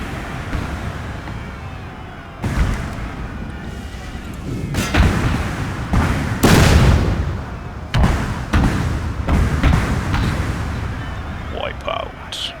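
Musket volleys from soldiers in Napoleon: Total War, several sharp crackling bursts spaced irregularly over a steady battlefield din, with a brief voice near the end.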